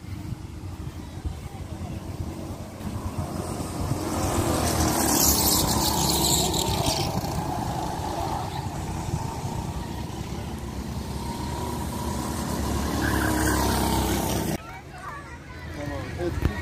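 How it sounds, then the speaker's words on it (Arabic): Cars run on a racing track in Baruthane park in Samsun, Turkey, a steady loud engine drone with rising whines and a squeal, under talk, easing off near the end. "وهاي حلبة سباق سيارات."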